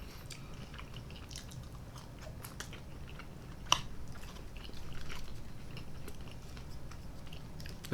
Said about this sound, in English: Let me take about one more bite.